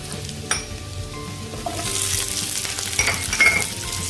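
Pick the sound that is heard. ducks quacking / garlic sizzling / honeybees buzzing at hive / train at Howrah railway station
garlic sizzling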